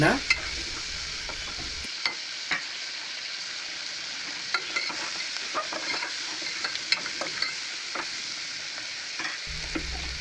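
Mutton pieces fry in hot oil while being stirred, a steady close sizzle broken by repeated scraping stirs of a spoon against the pan, with brief music at the start and end.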